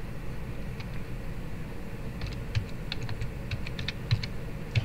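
A password is typed on a BlackBerry phone's physical keyboard, with faint, quick key clicks in small irregular clusters over a steady low background hiss and hum, and nobody talking.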